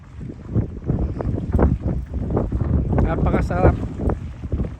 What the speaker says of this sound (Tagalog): Sarap ng hangin dito, malamig.